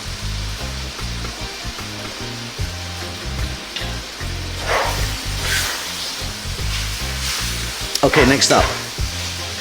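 Mutton curry with fresh tomato sizzles and bubbles in a pan for a spicy Sri Lankan dish. The steady frying hiss sits under a low, rhythmic background track, and a voice talks briefly over it.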